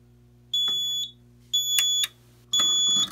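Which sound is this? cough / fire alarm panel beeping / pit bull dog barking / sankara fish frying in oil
fire alarm panel beeping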